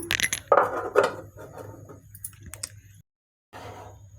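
Metallic clinks and clatter of a lid set onto a cooking pot while carrots cook in water: a couple of sharp close taps, then lighter rattles fading to quiet.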